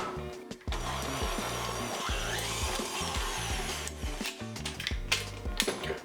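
An electric hand mixer whirs steadily while beating butter for lemon cake icing, a close, loud motor drone with the beaters thumping and knocking rhythmically against the bowl.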